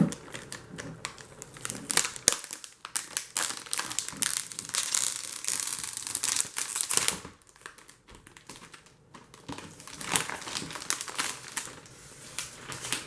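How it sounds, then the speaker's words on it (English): Protective plastic film peeled and crinkled off a Dell XPS 13 aluminum laptop, a run of close crackling, rustling and tearing sounds with brief pauses. "before we begin exploring the laptop, let's take the plastic off"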